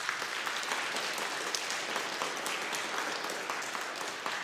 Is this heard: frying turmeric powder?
no